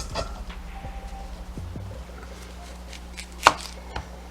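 Knife chopping through yellow onions on a cutting board, a handful of sharp, close cuts with short pauses between strokes and a louder chop near the end.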